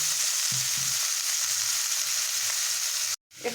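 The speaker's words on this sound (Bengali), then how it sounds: "ওই তেলে আমি আলু ফুলকপিটা ভেজে নেব" Potato and cauliflower pieces frying in hot oil for a Bengali fish jhol give a steady, loud sizzle with no talk, cutting off abruptly near the end before a brief return.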